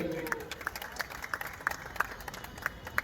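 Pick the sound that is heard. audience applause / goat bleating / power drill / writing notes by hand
audience applause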